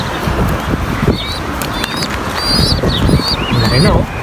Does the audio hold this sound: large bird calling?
yes